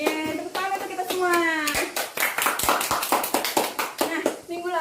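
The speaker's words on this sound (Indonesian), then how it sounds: "Tepuk tangan untuk kita semua." A classroom of children claps hands together in a rhythmic group clap after singing, the sharp claps close and loud, mixed with young voices chanting and singing over them.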